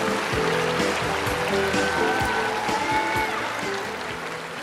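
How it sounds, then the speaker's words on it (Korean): An audience at a supermodel contest award ceremony gives a continuous wash of applause, dense and steady at moderate distance, easing slightly toward the end with faint background voices. "다시 한번 큰 박수 부탁드립니다"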